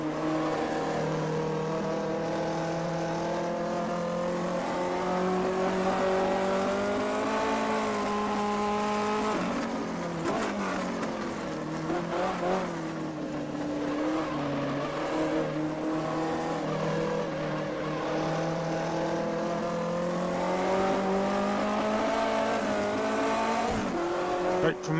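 A 1958 Formula 1 race car in the Automobilista video game runs laps at Spielberg 1974, its engine droning continuously and rising and falling through gear changes and corners, with occasional tire scrubs.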